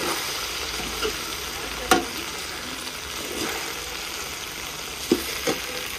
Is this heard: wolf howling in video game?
no